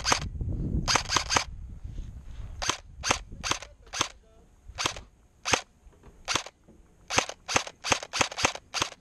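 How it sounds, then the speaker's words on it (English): Gunfire being returned from a tree line during guard duty: a rapid series of sharp, loud cracks, some in quick doubles and triples, spaced irregularly with short quiet gaps and no talking. "He's gonna start returning fire."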